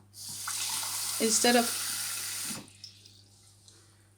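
Warm tap water pours into a pot holding about two cups of cornmeal, a steady close rushing stream lasting a couple of seconds before cutting off, with a brief voice over it.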